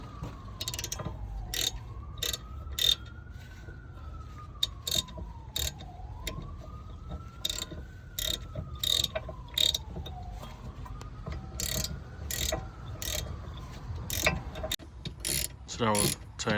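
Ratchet tightening caliper bolts on the brakes of a 2016 Honda Civic EX, giving steady bursts of rapid clicking pawl strokes throughout, with a faint wailing siren passing in the distance.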